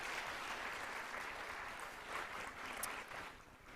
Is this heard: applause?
yes